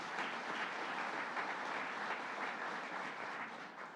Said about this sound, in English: Give him another round of applause, Thurman Thomas.